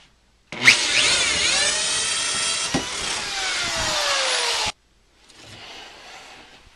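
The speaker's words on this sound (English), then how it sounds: "going to bore a hole in this 2x4 stud" A hole saw on a power drill bores through a 2x4 wooden stud, giving a loud, continuous high-pitched whine that slowly drops in pitch as it cuts, then stops abruptly, leaving faint background noise.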